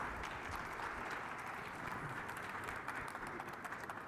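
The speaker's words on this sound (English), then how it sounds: "Please give me a warm round of applause" An audience applauds a guest speaker at a healthy kitchen event, a steady wash of clapping held at moderate distance for the full few seconds.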